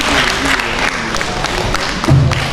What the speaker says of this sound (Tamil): உங்கள் கைத்தட்டலோடு